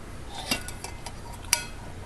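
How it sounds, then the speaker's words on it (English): A cheap stainless steel cup nests into a Stanley stainless steel pot, giving two short metallic clinks about a second apart, close and fairly quiet against a faint background. "Cheap stainless steel cup which nests the pot"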